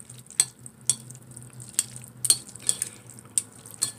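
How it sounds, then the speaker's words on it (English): Spicy noodles being stirred in a pan with a utensil, giving a series of sharp scraping clicks roughly every half second over a soft, steady sizzle, close and moderately loud with no talking. "Mix it."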